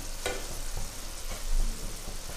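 Meatballs for a Kerala meatball curry fry in a pan with a steady close sizzle and crackle, broken by a short clink near the start and faint stirring.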